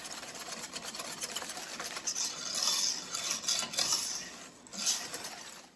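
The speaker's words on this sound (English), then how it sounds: "All right, so then we just mix this up. He just says stir well to combine." A spoon stirs peanut pie filling in a bowl, giving soft, uneven scraping and clinking close by. It grows a little louder toward the middle and end, with no talk.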